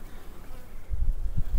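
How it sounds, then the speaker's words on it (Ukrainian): Carniolan honey bees buzz on a hive frame in a cold spring, a steady low droning hum close by that swells louder and more pulsing in the second half, with no voices. "Піднімається карніка, як і всі бджолки, вверх."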